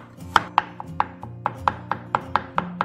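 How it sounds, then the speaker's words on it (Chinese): Garlic cloves being minced with a knife on a cutting board: a dozen or so crisp, evenly spaced chops, close and distinct, with no voices. "准备几个大蒜，我们把它切成蒜末"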